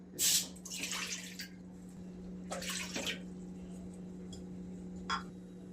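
Water pours from a bowl into semolina for medu vada batter in a few short splashing bursts, with a brief final trickle. A steady low hum runs underneath, with no talking.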